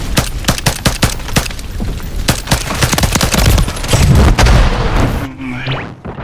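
Rapid gunfire in Call of Duty MW3, dense overlapping shots and bursts with heavy booming low end, loud and continuous before cutting off abruptly near the end.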